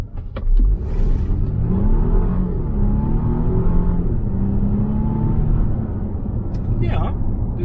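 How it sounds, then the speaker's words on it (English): A Volvo XC90 T8 AWD hybrid with 390 horsepower accelerates hard in sport mode from inside the cabin, a steady rising engine drone and whir that holds throughout, with someone talking briefly at the start. "Let's test 390 horsepower. Engine is on, sport mode, batteries are still charged."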